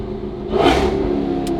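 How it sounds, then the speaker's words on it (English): A Dodge Hellcat with a titanium exhaust in sport mode downshifts, giving a single loud, rising rev and rumble that swells briefly and settles back to a steady engine drone. "You guys will hear these downshifts and how aggressive they"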